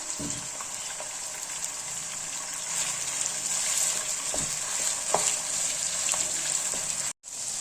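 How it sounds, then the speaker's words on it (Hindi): Continuous sizzling of minced mutton frying in hot oil over medium heat, with occasional scraping stirs and a brief break near the end, no talking. "इसको भी हम दरमियानी आंच में भून लेंगे"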